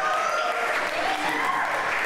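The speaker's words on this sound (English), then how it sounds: "How about a round of applause for Gino?" A live studio audience claps steadily and fairly loudly for a stage guest in a brief, continuous burst of applause with no pauses.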